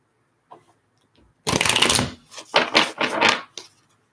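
Tarot cards being riffle-shuffled nearby: a quick run of crisp, rapid flutters in a few bursts, with a faint tap before and after.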